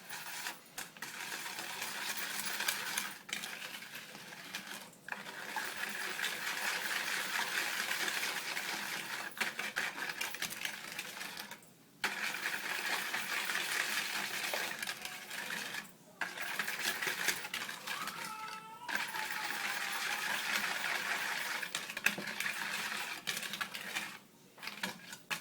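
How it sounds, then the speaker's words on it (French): Apple cake batter being mixed with an egg in a bowl, giving a close, steady whirring and scraping that runs in long stretches with a few short breaks, fairly soft throughout. "Donc alors on mélange bien tout ça."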